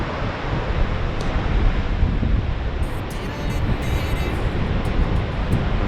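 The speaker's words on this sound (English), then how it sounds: "Feel the ocean breeze coming straight through" Ocean breeze blowing steadily through a sea cave at Talia on the Eyre Peninsula, a continuous loud rushing roar of wind and surf with no pauses, close to the microphone.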